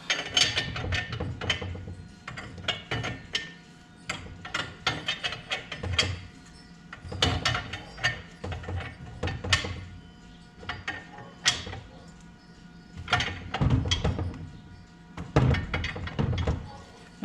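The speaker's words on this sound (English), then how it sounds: "wrench and just tighten that up" Ratchet wrench clicking in repeated short bursts while tightening intercooler bolts on a 1999-2004 Ford Mustang with a Saleen S281 supercharger, close and fairly loud with brief pauses between strokes.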